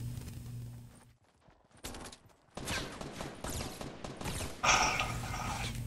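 Bursts of Fortnite gunfire crackle in rapid volleys, with a brief quieter gap before loud, dense shooting resumes and continues to the end.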